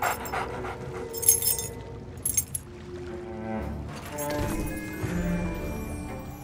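Dog panting in the pirate video game Sea of Thieves, quick rhythmic breaths close by, mixed with clinks, light clopping and other game sounds over a soft background.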